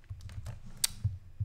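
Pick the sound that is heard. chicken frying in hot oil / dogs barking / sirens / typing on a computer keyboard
typing on a computer keyboard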